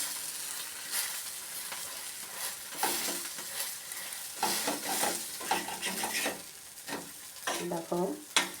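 Potato tikki frying in a pan after being flipped, a steady close sizzle broken by short scraping and stirring bursts, with no talk.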